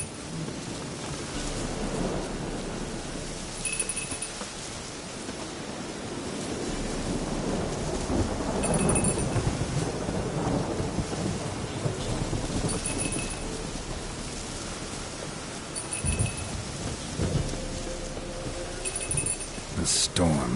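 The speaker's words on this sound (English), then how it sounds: "The storm, damn it." Steady rain and rolling thunder from a storm in the video game The Witcher 3, a broad continuous wash with swelling rumbles, with faint game sounds layered on top.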